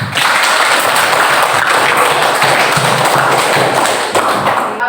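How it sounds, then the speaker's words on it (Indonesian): A classroom of students claps hands together in a religious education lesson, producing a dense, loud, continuous patter of many overlapping claps that holds steady for several seconds. "Tepuk tangan."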